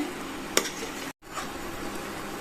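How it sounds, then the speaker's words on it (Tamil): Grated coconut and jaggery are stirred in a pan, a soft continuous scraping and faint sizzle with one sharp clink of the spoon and a brief dropout in the middle. "இன்னுமே கிண்டி கிடுத்துட்டே இருப்போம்."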